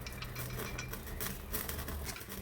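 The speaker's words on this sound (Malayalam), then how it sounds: "ഉരുളക്കിഴങ്ങ് ഇടുക." Potatoes tipped into a pot of white bean curry, a soft clatter and stir against the metal pan with faint sizzling, close and quiet with no talk.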